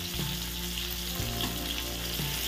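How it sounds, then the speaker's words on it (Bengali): Chopped onions with a little salt fry in hot oil, a loud, steady sizzle with a low hum running underneath and no speech. "সামান্য একটু নুন দিয়ে আমি এই পেঁয়াজগুলো ভেজে নেব।"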